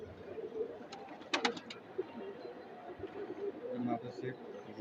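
Pigeons from a collection coo close by, with soft repeated calls over a busy background and a few sharper bird notes. Voices are faintly present.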